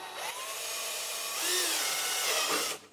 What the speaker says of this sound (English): I can just drill me a hole here